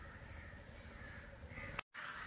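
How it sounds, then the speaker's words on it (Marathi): A crow caws repeatedly in the evening at Belapur Fort in Navi Mumbai, harsh calls over a steady outdoor hum, with a brief dropout near the end. "पक्ष्यांचा किलबिलाट"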